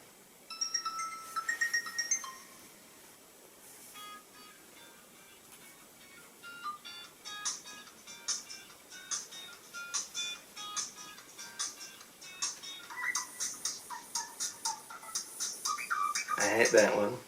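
An Acer Liquid Mini phone from 2011 plays a string of ringtones, bright repeating electronic melodies and beeps that start sparse, then build into a busy, rhythmic tune toward the end, with a voice talking at times.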